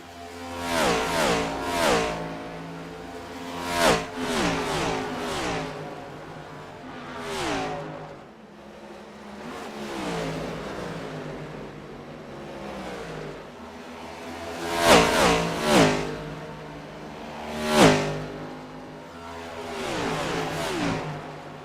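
Next Gen Series race cars running in a tight pack at the Texas 150. Loud engines swell and fade as cars sweep past one after another, with repeated sharp pitch-sliding passes and no talking.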